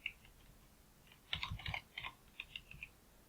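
Light typing on a computer keyboard while entering a formula into a spreadsheet, a sparse tap or two and then a quick cluster of close, quiet clicks, no voice.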